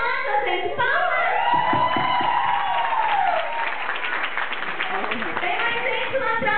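Applause from a church congregation welcoming visitors during a joyful worship service, a steady wash of clapping under and around loud talk from a leader addressing the crowd.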